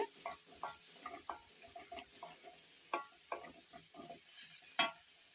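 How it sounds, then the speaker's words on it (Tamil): Vegetables for a mixed vegetable soup sautéed and stirred in a pan, heard as soft scraping stir strokes and light clatter repeating every second or so over a faint steady sizzle, fairly quiet with no talking. "இதை வந்து நல்லா வதக்கி விட்டாச்சு"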